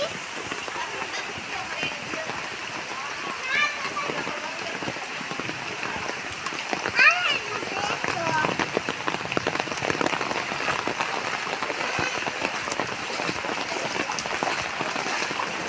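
Rain falling steadily on a surface during net fishing, a dense close patter lasting throughout and growing heavier partway, with people talking over it.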